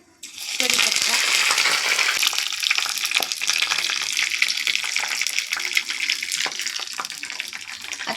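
Mustard seeds and curry leaves drop into hot oil in a small tempering pan, and a loud, bright sizzle erupts at once and keeps hissing steadily with faint crackles.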